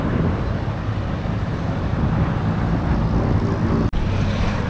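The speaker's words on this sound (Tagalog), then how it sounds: "Sobrang hangin." Strong wind in Tagaytay, Philippines, roars steadily against the microphone, a constant low rumbling buffet that never lets up.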